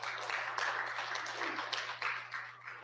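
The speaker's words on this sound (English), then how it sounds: "Let's give Courtney another round of applause." An audience at a faith-based 12-step gathering claps in a soft, steady burst of applause that fades slightly toward the end, heard at a distance over a low hum.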